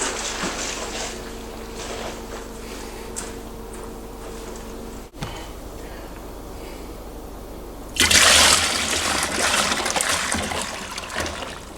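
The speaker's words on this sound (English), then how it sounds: "we can slosh the star sands around in the keg to sanitize it" Star San sanitizer sloshing inside a metal beer keg, with a steady watery churn that surges into a louder, splashier rush for the last few seconds.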